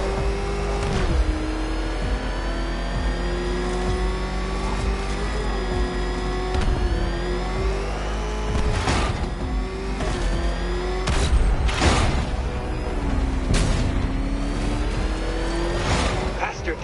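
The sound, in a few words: Batmobile engine revving in Batman: Arkham Knight video game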